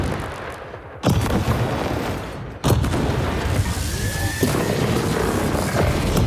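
Heavy autocannon bursts from a mech in War Robots Frontiers, loud and dense, with two sharp new volleys breaking in after brief lulls and a continuous roar between them, no voices.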